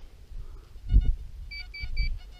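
A metal detector gives a few short, high electronic beeps in a quick run over a shallow target in soil, over low outdoor rumble and shuffling; no voices.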